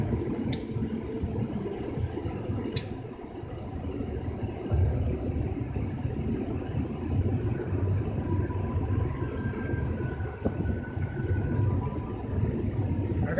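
A 1991 JDM Toyota Camry cruising along a road, heard from inside the cabin as a steady, continuous low rumble of engine and tyres with a faint, even wash of road noise and no talking.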